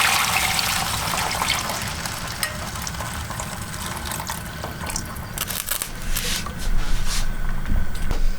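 Water poured steadily into a cooking pot in a small off-grid cabin kitchen, a continuous close splashing trickle that grows fuller and louder toward the end, with no talk.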